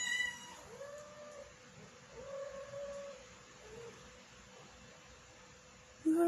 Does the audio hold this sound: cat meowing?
yes